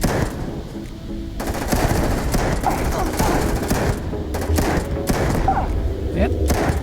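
Rapid automatic gunfire from a weapon in the video game Starfield, loud repeated bursts with thumping impacts filling most of the stretch, broken by brief pauses, with a voice talking over it.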